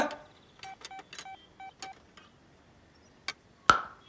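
A telephone being dialed: a quick run of about seven short keypad tones in an even rhythm, a pause, then a sharp click and a louder knock, all close and clear with no talking.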